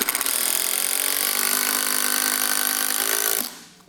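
A 12-volt SKIL impact driver drives a hard screw, a loud rapid rattling hammer lasting about three and a half seconds before stopping abruptly.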